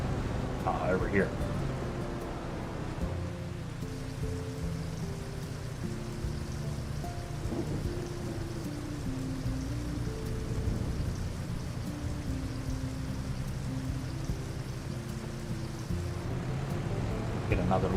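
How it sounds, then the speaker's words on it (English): Steady rain hiss in Farming Simulator 25 on a Carpathian farm during cultivating, a constant wash of patter under a low droning vehicle engine, with someone talking over it. "It's starting to rain."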